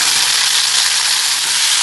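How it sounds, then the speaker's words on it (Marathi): Drumstick pods added to a hot pan over salt and asafoetida sizzle with a loud, even, close-up hiss that stays steady throughout, with no voices. "याच्यावर या शेंगा टाकून द्यायच्या."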